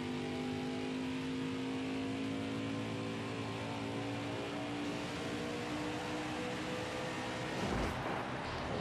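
Race truck engine from a Ryan Truex truck event at World Wide Technology Raceway, a loud sustained roar with steady harmonic whine as it revs while smoking the tires, a brief surge near the end.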